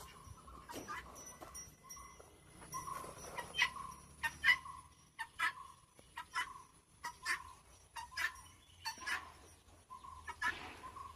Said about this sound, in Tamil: குருவி தான் ஏதோ கத்துது.